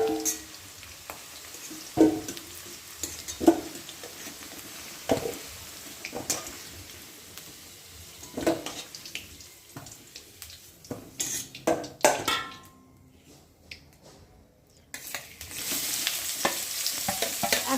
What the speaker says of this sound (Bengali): এখন এই পেঁয়াজগুলোকে ভেজে নেবে